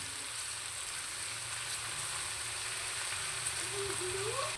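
Garlic and onion sizzling in melted margarine in a pan, a steady soft crackling hiss that stays even and moderately close for a few seconds, with no talking.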